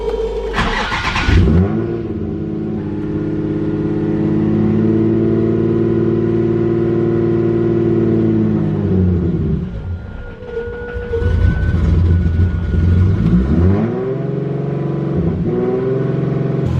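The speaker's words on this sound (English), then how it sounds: "let's go ahead and start this car up and get this video started" A turbocharged Nissan 350Z fires up with a short cranking burst, then settles into a loud, steady rumbling idle before being revved up and down a couple of times close by.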